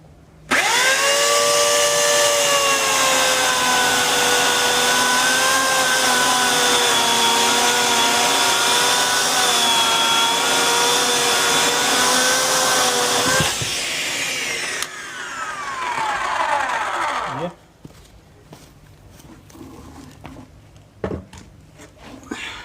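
An electric saw whines loudly and steadily for about thirteen seconds while cutting firewood, its pitch dropping as it winds down, followed by scattered knocks and handling noises.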